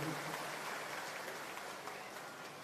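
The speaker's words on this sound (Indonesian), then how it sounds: "Tepuk tangan juga buat Pak Cucu" An audience claps at an Indonesian presidential campaign event as a crowd applauds. The sound is a faint, distant, steady wash of many hands, with no single claps standing out.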